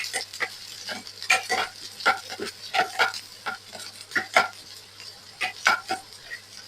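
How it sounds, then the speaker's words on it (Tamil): Onion and garlic frying in a pan for aval upma, stirred in repeated rhythmic scraping strokes over a faint sizzle, close up and without talking. "வெங்காயத்தையும் வெள்ளப்பூடையும் போட்டுக்கொள்ளுவோம் போட்டு நல்லா கலந்து விட்டு கொள்ளுவோம்"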